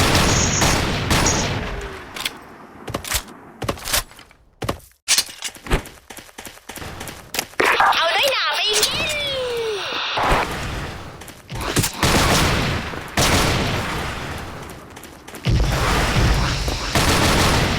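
Rapid bursts of gunfire from the online shooter Special Force crackle loudly in uneven volleys, with sharp single shots and brief pauses between flurries, the firing close and dominant throughout.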